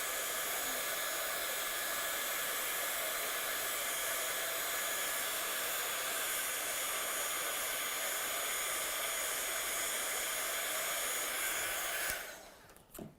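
A heat gun blows with a steady, loud broadband hiss for about twelve seconds while drying a watercolour paint layer, then cuts off abruptly near the end with a brief clatter.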